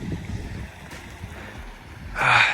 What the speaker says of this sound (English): That sound is like so calming, man, you know, with the water.